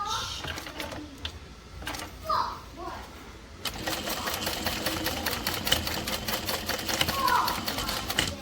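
A sewing machine runs steadily, stitching a double-folded fabric edge with a dense rapid needle chatter that starts around midway after quieter handling noises, with a voice speaking in the background.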